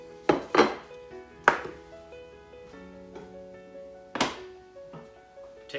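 Rice scooped onto the corner of a plate, a few sharp spoon-on-plate clunks spaced apart, close and fairly loud over a quiet kitchen background.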